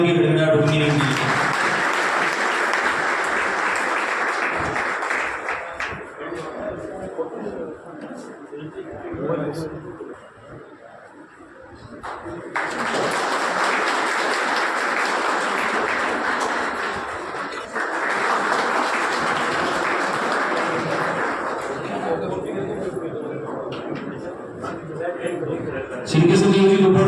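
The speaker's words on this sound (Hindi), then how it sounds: "तालियों की गड़गड़ाहट रुकनी नहीं चाहिए।" Crowd applause welcoming a guest at a ceremony in Soni Dharamshala, Sujangarh, honoring a retired police director general. Sustained clapping rises in loud waves, dips around the middle, then swells again, with voices talking beneath it.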